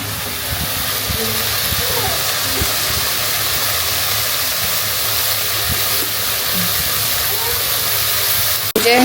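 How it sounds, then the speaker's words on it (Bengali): Spices fry in a hot pan during home cooking, giving a loud, steady, close sizzling hiss that runs unbroken for several seconds while someone talks faintly in the background. "ভেজে এখানে হলো মশলা কষানো হচ্ছে"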